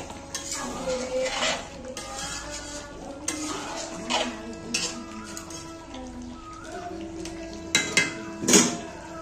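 Mutton and potato pieces being stirred in a pan, with a spoon repeatedly scraping and clinking against the metal over a faint sizzle, in irregular close strokes and a few louder knocks near the end.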